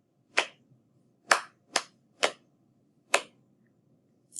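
A short rhythm of sharp taps and hand claps in a lesson, six crisp, close hits spaced unevenly over a quiet background with no talking.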